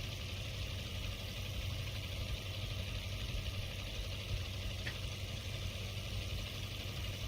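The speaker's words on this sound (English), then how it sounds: "Engine sounds like it's broken." Idling aircraft engine in the video game Aces of Thunder, running rough as if broken: a steady, dense drone holding at one level throughout, close and unbroken, with no talk over it.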